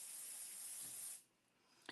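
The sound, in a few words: pixie spray misting from a spray bottle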